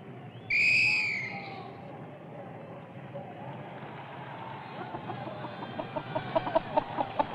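Cartoon hens cluck together as one big flock before a volleyball match, a loud squawk near the start giving way to a busy, steady clucking bed that turns into rhythmic bursts toward the end.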